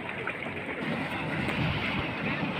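Steam pressure hisses steadily from boiling hot spring vents at Manito, Albay, a loud, continuous broadband rush with no clear breaks.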